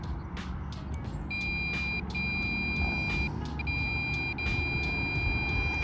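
Dragon Eye laser speed gun aimed at a road from inside a Lamborghini Urus, giving steady electronic clicking beeps in repeated bursts over a continuous loud cabin and road rumble.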